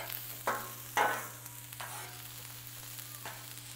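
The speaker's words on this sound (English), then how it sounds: "And some good old sauteed jalapenos and onions." Jalapenos and onions sautéing on a Blackstone griddle give a steady low sizzle, with a few sharper scraping stirs of a spatula near the start, fairly close with no talking.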